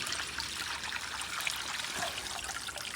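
Water from a garden fountain water feature run by a pump of about 3,000 litres an hour, trickling and splashing in a steady, continuous wash at close range, with no talking.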